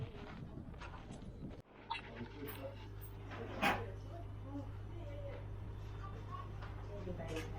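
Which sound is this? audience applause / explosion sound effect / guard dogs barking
guard dogs barking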